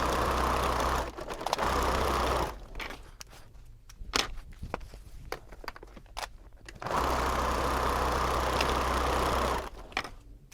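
A sewing machine runs in two steady bursts of rapid stitching, separated by a quieter stretch of clicks and handling noises nearby.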